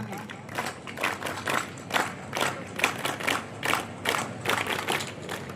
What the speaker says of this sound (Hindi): वीर ताली।